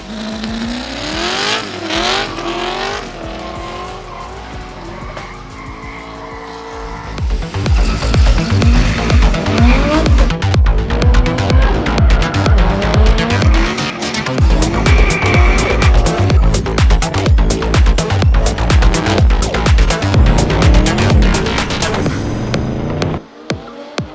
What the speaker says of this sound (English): dry sump 6 litre with all the revs, 8-to-1 collector straight out the bonnet, 8 throttle bodies feeding it with some air